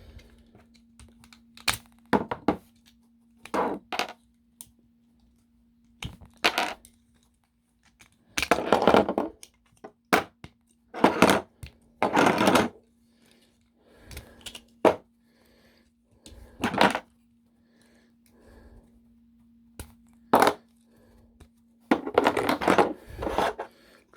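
Plastic Transformers Earthrise Airwave toy being pulled apart into robot mode: scattered sharp clicks, snaps and rattles of plastic parts, close and intermittent, with a steady low hum beneath.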